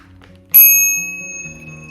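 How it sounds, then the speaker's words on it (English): The bell on a Lectric XP4 eBike gives a single sharp, bright ding that rings on and slowly fades, over a faint low background hum. "This is my bell."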